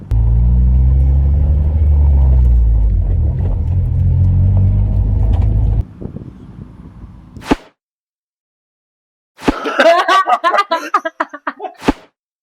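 An Acura TSX engine hums steadily while driving in second gear, then fades to a quieter rumble and cuts off, followed by a few sharp clunks and rattles after a short silence.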